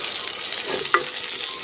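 Onions sautéing in a pan for goisthu, a soft steady sizzle with a brief stir or clink near the middle, close and alone without talk.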